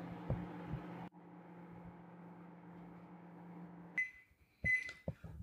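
A microwave oven hums steadily while heating water in a Ziploc bag, the drone changing pitch partway through, then stopping with a beep followed by a few clunks of the door opening.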